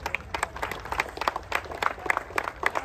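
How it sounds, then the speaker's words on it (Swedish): Crowd applause for an entrant at the Wheels Nats Haparanda 2023 car show, after a burnout competition: steady, fairly distant clapping with scattered sharper claps, sustained for the whole stretch. "En stor applåd till Kari tycker jag."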